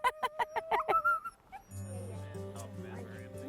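Excited sled dogs in Whistler, BC yip and whimper in a rapid string of sharp high cries, then give way to a lower mechanical hum with a voice speaking over it.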